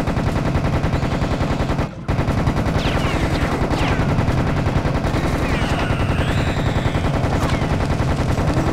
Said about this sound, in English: Shooting it.